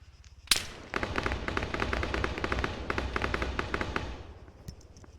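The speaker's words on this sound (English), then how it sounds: "They're throwing frags on his position." Frag grenade blasts in the Arma 3 video game: a sharp explosive crack followed by a rapid crackling series of bursts and gunfire-like pops, loud and dense for several seconds before fading out.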